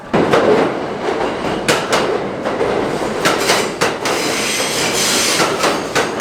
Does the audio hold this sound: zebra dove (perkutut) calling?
no